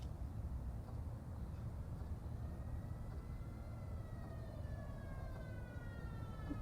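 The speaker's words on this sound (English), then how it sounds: "And there's an ambulance, I guess. Or the police" A distant ambulance or police siren wails inside the video game Conway: Disappearance at Dahlia View, faint rising and falling tones over a steady low background hum, with no talking.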